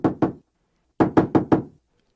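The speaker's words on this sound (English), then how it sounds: "and somebody knocked at the door." Someone knocks at an apartment door on a Paris stairwell landing: two quick raps, a brief pause, then four more firm, evenly spaced knocks, close and clear in an otherwise silent room.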